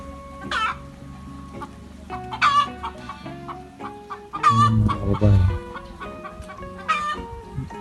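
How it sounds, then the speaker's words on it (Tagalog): Several chickens cluck repeatedly around a family house, with fowl calls rising and falling in bursts over a low rumbling background; a rooster-like call briefly stands out near the middle. "Manok ito. Manok."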